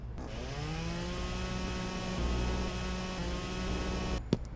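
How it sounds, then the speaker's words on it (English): In the Flashing Lights firefighting game, a chainsaw cuts through a fallen tree blocking a road, a steady whining drone with shifting harmonics that ends abruptly in a short burst of noise. "we're going to grab the chainsaw and get this thing cut up"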